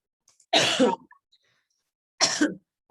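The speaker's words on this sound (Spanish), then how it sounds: "Sí, niños, que estoy tosiendo, por eso me muteé." Two coughing fits, the first longer and harsher, the second shorter after a pause of silence; close and fairly loud, no talking.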